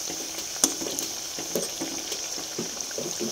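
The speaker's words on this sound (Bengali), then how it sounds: "আর শেষে কয়েকটা বেগুন ছোট ছোটগুলো, ওইগুলো একটু ভেজে নিচ্ছি" Small home-grown eggplants, halved, fry in a pan with a steady hissing sizzle, broken by soft stirring scrapes and light pops, close and fairly quiet.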